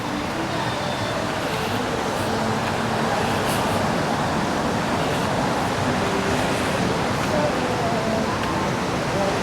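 Small surf waves washing ashore at Kuta Beach, Bali, heard as a steady, dense wash of broadband noise that carries on without a break throughout.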